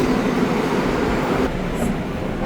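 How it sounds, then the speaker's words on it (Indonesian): Commuter train at a station, a steady loud rumbling roar of rail cars with a brief high squeal near the end, no talking. "Oke guys, keretanya udah datang."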